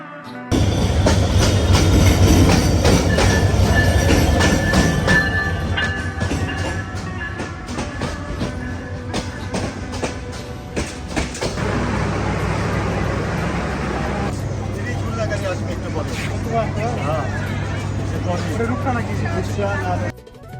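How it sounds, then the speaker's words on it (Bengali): Busy ambience at Santahar Railway Junction in northern Bangladesh: a train's rumble and rattle, traffic noise and a murmur of voices, fairly loud and continuous. "রেল স্টেশন এমন একটি জায়গা যেখানে সব শ্রেণীর মানুষের আনাগোনা থাকে"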